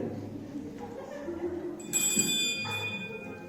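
A hotel service bell rings once in a stage play, a bright sharp ding that rings out briefly against quiet room tone.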